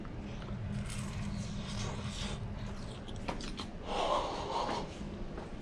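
A crunchy quesadilla cooked in cast iron is bitten and chewed close to the mic, with a run of crisp, crackly crunches over a quiet background and no talking.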